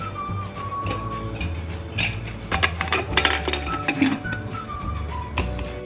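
A metal lid and two heavy stones set onto a tiffin box for steaming mustard hilsa, giving close clinks, knocks and scraping clatter of metal and stone across several seconds, with no talking.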